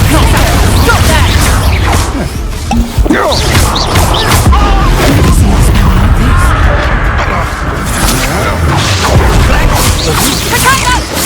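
Loud, chaotic combat in the Hogwarts Legacy video game: crashing spell blasts like the Expulso explosion, whooshes and thuds in a dense, continuous barrage, with voices shouting through the fight.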